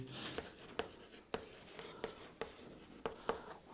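A pen or chalk writes on a board during a chemistry lecture on xenon compounds, producing a quiet, irregular series of sharp taps and short scratches close by.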